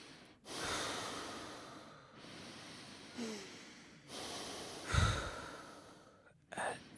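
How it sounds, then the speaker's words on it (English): Deep, slow breaths during a mindfulness exercise, close and audible, with airy inhales and exhales at intervals of a couple of seconds and a sharper snort-like exhale near the middle. "Focus on your breathing."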